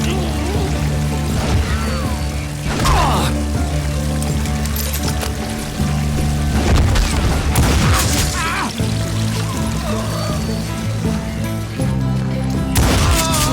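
Bursts of gunfire from hired guns in Call of Juarez: Gunslinger, sharp volleys and booms cracking over a steady game music bed, with several clustered shots recurring through the clip.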